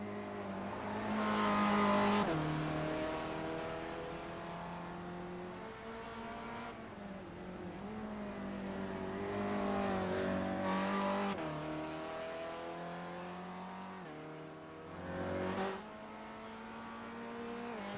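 Spec Racer Ford race cars run at speed at the Nurburgring Nordschleife, close together in a draft down a long straight, their engines droning steadily with rising and falling pitch at moderate distance, no voices.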